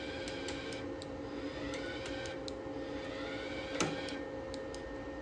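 A Tooliom TL-135 welder feeds wire to its tip, a steady motorized whir with faint rhythmic ticking and one small clunk, close and quiet without talking.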